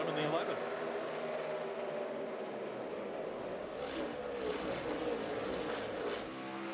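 NASCAR race cars roar together as they accelerate on a restart at the 2013 Food City 500, a dense, steady wall of engine noise with a commentator talking over it throughout.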